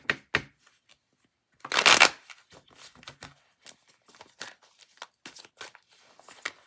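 A deck of cards riffled and shuffled by hand, crisp fluttering bursts with one long loud riffle in the middle, close and otherwise quiet.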